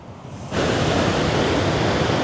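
Ocean waves crash and surge beneath a large coastal rock arch near Shantytown, New Zealand, a loud continuous roar of surf that swells suddenly after a quieter first half-second and stays heavy throughout.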